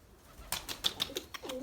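White pigeons flap their wings in a few quick broadband bursts, close by, with a short low coo near the end.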